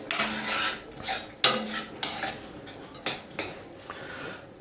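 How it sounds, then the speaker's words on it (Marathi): A utensil stirs nutmeg and cardamom powder into pumpkin kheer with ghee in a pot, giving a series of close metallic clinks and scrapes separated by short pauses. "पूर्ण छानपैकी हलवून घ्या."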